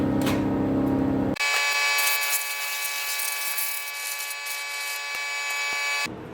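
Long sander working body filler on the lower door skin of a 1963 Ford Falcon, a steady close buzzing drone with a whine running for several seconds after a brief lower-pitched start, then stopping.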